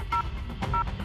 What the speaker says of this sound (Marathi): फोन लाव